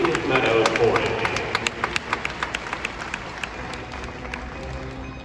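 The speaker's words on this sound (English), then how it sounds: "How about a round of applause, ladies and gentlemen, a little support" Crowd applause at a four-in-hand carriage driving show at an agricultural winter fair, clapping building then fading to scattered claps while an announcer talks over a loudspeaker.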